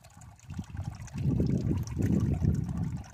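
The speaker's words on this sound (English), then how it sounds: "Here's my new and improved half-wine barrel koi fish pond" Water trickles and splashes from a solar-powered pump fountain into a half wine barrel koi pond, close and gently bubbling in uneven surges.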